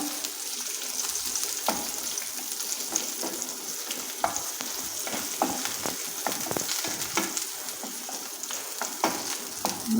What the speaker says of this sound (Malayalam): ഈ പച്ചപ്പൊന്ന് അതിൻ്റെ ഒരു പച്ചച്ചവ പോകണം ഒന്ന് വഴറ്റുക